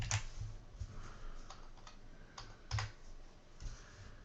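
A username being typed on a computer keyboard at a lab workstation: a quiet run of irregular clicks and key taps, some sharper strokes standing out, with no voices.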